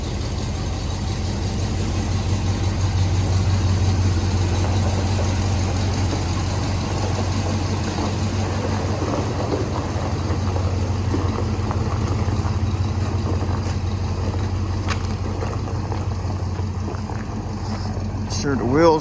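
A 1985 Chevrolet Silverado truck idles with a steady low engine rumble as it slowly backs out, the drone constant and close throughout, with people talking over it.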